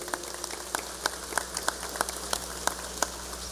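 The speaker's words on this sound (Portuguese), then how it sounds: "Pode aplaudir." Church congregation applauding, a sparse, uneven patter of claps of moderate loudness, with individual sharp hits standing out over a low steady hum.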